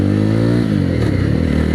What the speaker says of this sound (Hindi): अभी मैं ऑलमोस्ट थर्ड गियर पे चला रहा हूँ और 40 आराम से गाड़ी चल रही है